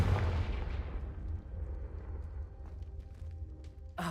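A Confringo blasting spell explosion in Hogwarts Legacy, heard as a single heavy boom that decays into a rumbling tail and then fades, followed by a brief sharp hit at the end.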